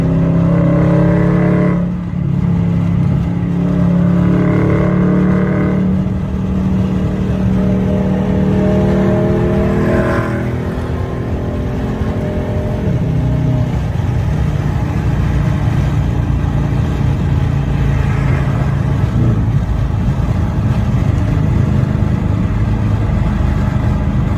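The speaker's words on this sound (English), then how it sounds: "How loud that car is, bro. I gotta crack the window so y'all can hear." A Dodge Charger or Challenger engine revs loudly and steadily throughout, heard from inside the car with a window cracked, rising and falling in deep pitch with no talk over it.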